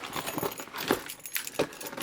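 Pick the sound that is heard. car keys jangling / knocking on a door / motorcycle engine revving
car keys jangling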